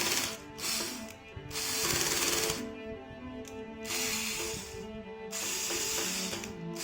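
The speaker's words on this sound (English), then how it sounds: "this one we drive the screw inside." A power drill drives a screw while an IKEA KRYDDPEPPAR unit is assembled, giving loud whirring bursts that start and stop several times, with brief pauses between runs.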